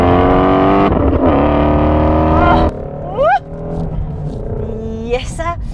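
A Ford Mustang Shelby GT350's flat-crank V8 revs hard and loud, rising in pitch, then drops off before several sharp blips climb again with a raspy, high-revving wail.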